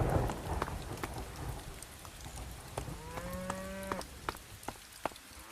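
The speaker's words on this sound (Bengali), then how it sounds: "হ্যাঁ, খুব কাছে কাছে গরু ডাকার আওয়াজ পাচ্ছি," A cow moos once in a Bangladeshi-style GTA 5 mod, a clear, drawn-out bellow lasting about a second, set against steady rain pattering on surfaces and a few sharp drips.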